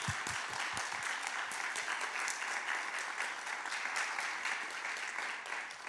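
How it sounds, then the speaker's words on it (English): Sustained audience applause for the speakers at an Indigenous art and environmental issues panel in a gallery, dense steady clapping from many hands throughout, a few sharper individual claps standing out early on. "let's give all of our speakers another round of applause"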